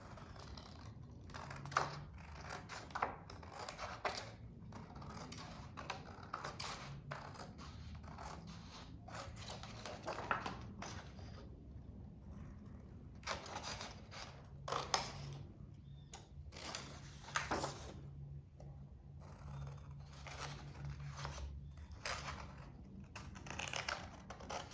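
Scissors snip steadily through paper sheets while cutting out pieces for a skate-themed favor box, a quiet run of close, crisp clicks and rustles with no talking.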